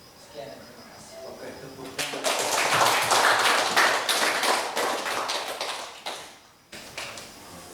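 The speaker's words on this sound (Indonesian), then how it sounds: "Oke, tepuk tangan." A burst of applause from a group at a school presentation rises after a quiet moment, holds for several seconds, then fades, with a few scattered claps at the end.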